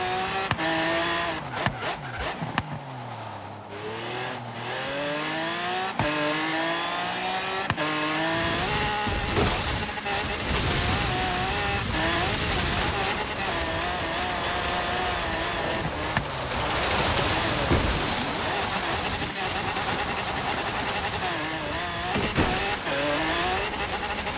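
A Hyundai Genesis in Forza Horizon 3 is driven off-road, its engine droning and revving loudly throughout, with shifting pitch, tire scrub and skidding over rough ground and no talk.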